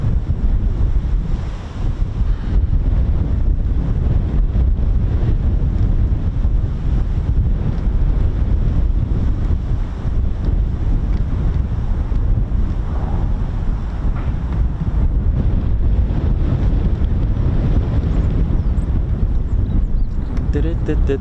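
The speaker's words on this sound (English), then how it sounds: "that is just ridiculous, that wind, isn't it?" Strong wind roars across the microphone at an outdoor air show where stealth F-35B jets are flying, a loud, constant buffeting rumble that drowns out most other sound, with a voice talking over it.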